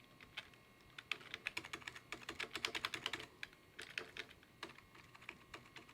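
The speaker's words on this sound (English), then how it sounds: "We have no keyboard, so we'll have to type this in manually." Typing a password on a computer keyboard while setting up a network video recorder, quick uneven clusters of crisp key clicks close up, sometimes speeding into bursts and then pausing, with no voices.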